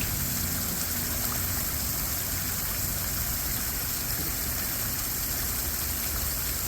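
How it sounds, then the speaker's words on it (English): Steady rushing and splashing of water from a medium-sized garden water feature, continuous and even throughout with no voices. "this is what a medium-sized water feature sounds like"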